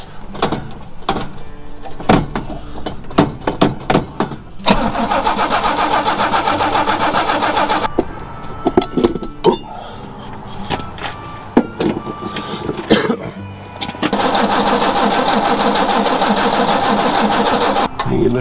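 Small engine cranked repeatedly after being bolted back together during weekend maintenance, sputtering through short pulls and then longer cranking runs that fail to catch, close and loud.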